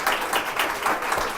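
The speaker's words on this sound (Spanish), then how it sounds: "Un aplauso a Dios." A church congregation applauds at a Spanish-language evangelical service in Valledupar, giving steady, dense clapping that fills the room throughout, close and lively with no pauses.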